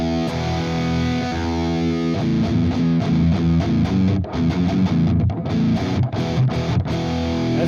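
Heavy distorted electric guitar through OVERLOUD TH-U amp simulation: thick sustained chords giving way to chugging, palm-muted riffing with short gaps, loud and upfront with no voices.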